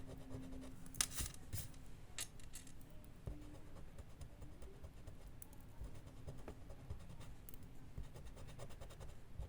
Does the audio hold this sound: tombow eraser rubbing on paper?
yes